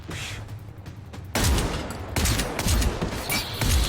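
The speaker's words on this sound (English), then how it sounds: "Oh! I just got sniped!" Sniper gunshot in a battle royale video game, a sharp loud crack that hits suddenly, followed by further rapid gunfire bursts and booms in a busy, noisy firefight.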